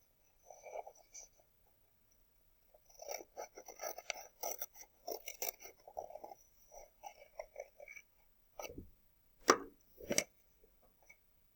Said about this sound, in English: I get my scissors, and I cut through both pieces at the same time.